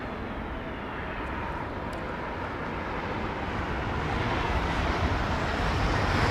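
An airplane passing near an airport, a broad rushing roar that swells steadily louder as it approaches, heard alone without talk.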